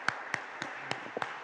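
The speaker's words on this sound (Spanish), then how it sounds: "Un fuerte aplauso para Ian." A few scattered handclaps from an audience at a cybersecurity workshop session, about five sharp separate claps spread over a second and a half, fairly faint, with no talk.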